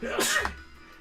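One close, sharp sneeze bursts out abruptly and fades quickly during a live retro gaming talk show.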